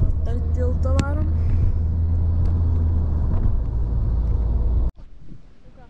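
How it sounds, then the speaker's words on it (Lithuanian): A car driving across a bridge on Krk island in Croatia after heavy rain, a steady low road rumble with tyre noise under continuous talk, cutting off sharply near the end. "Per tiltą varom."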